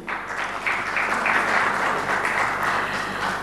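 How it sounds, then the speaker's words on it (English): A conference audience gives a round of applause to welcome a panel speaker, a steady wash of clapping that holds evenly for a few seconds. "A round of applause for him."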